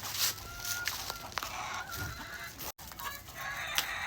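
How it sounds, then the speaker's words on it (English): Standard-size, large-breed chickens in a backyard coop built from an old playhouse cluck and squawk nearby, with scattered honk-like calls and brief rustles, no talking. "And that's for the bigger, larger breed chickens, standard chickens."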